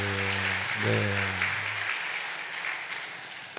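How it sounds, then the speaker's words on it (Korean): A church congregation at Sunday worship claps vigorously, a dense burst of applause that gradually thins out over a fading organ chord, with a brief spoken word from the front. "힘차게 박수."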